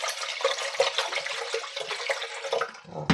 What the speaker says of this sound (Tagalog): tansyahin lang natin ang ating tubig para sa sabaw